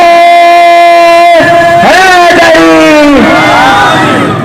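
A crowd roars a religious slogan in unison in reply to a leader's call at a Pakistani public gathering, a loud massed chant swelling in repeated surges, each shout rising and falling.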